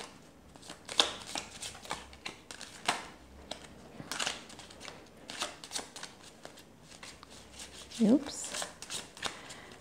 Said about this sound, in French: Cartes qui sont pas simples à mélanger.